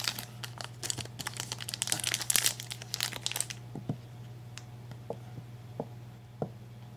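Disposable vape packaging, a Blue Raz box and wrap, crinkles and crackles up close in dense bursts for a few seconds, then thins to scattered soft clicks and rustles over a steady low hum.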